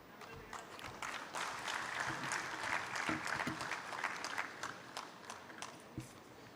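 Audience applause at an alumni meet in Jammu and Kashmir, as a former bank general manager is introduced. The claps are scattered and fairly quiet, with a few louder sharp ones, and a voice is faintly present.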